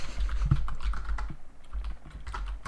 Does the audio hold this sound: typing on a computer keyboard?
yes